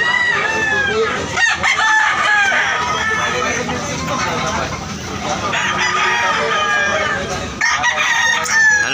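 A one-year-old yellow-legged rooster crows loudly and close by in repeated drawn-out calls, with clucking fowl around it.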